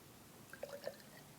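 Fuel system drier additive poured into a test tube, giving a few faint, brief liquid drips and trickles over a quiet background.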